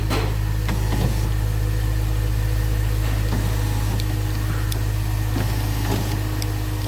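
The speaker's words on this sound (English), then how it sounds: "So you can see the motor is working. It's bringing the window down, but it's not pulling it up." A power window regulator motor in a BMW X3 door hums steadily as the window lowers, with a constant low drone throughout and faint intermittent ticks and clicks.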